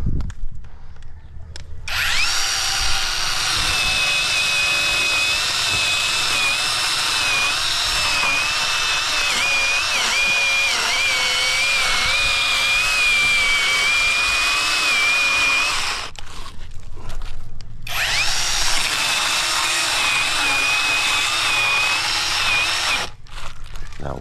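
A chainsaw cuts into a living tree holding a bee nest, its engine whining loud and steady for about fourteen seconds, pausing briefly, then roaring again.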